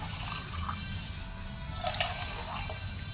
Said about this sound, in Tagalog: Lalagyan ko ng tubig yung mga lata.